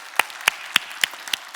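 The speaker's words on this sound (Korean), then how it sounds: "공연 문화사역팀 박수 한번 다시 하실까요?" Five sharp, evenly spaced claps ring out in a church during a dawn prayer service, crisp and fairly close, with quiet room tone between each hit.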